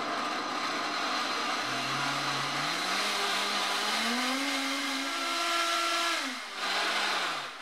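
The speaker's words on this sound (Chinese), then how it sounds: "把莲子连汤一起倒入搅拌机中" A kitchen blender pureeing cooked lotus seeds with their cooking liquid for mooncake lotus paste filling, a steady loud motor whir whose pitch rises and dips as the load changes, heard alone.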